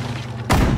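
A single deep boom of weapon fire in a World War II real-time strategy game, a sudden loud blast cutting in after a low engine-like hum and sustaining briefly.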